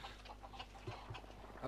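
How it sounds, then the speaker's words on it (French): Chickens cluck softly in the Modern Warfare 2 video game, a few faint, quick clucks over a low background drone. "quand tu passes sur la vue de Crow, t'entends les poules"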